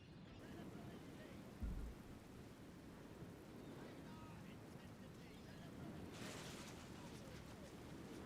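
Steady rain hiss with a low thunder thump early on, from a battle in the strategy game Medieval II Total War, a continuous wash of noise that stays even throughout.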